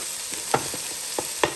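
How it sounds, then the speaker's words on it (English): Carrots sautéing in a Power XL cooker while fried rice with corn is being made, heard as a low steady sizzle with three sharp scraping stir strokes spread through the stretch. "Put my carrots in there, let that saute nice and good."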